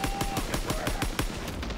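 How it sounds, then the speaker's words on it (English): Rapid bursts of automatic gunfire in the Call of Duty: WWII video game, about eight sharp evenly spaced shots in quick succession, loud and close with no talking. "The first 8 were warning shots."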